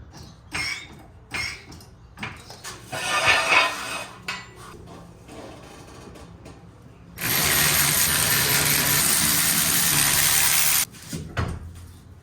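A Saab 900 is raised with a jack in a garage: irregular metallic clanks and ratcheting clicks, then a long steady grinding, rushing stretch of several seconds before more scattered clatter, close by and moderately loud.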